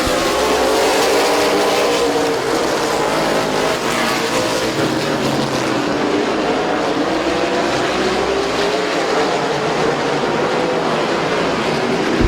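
Race cars at Midvale Speedway in September 2018 roar continuously through a dense, loud wash of engine noise as the pack circles the track, with pitch swelling and fading as cars pass and no break in the din.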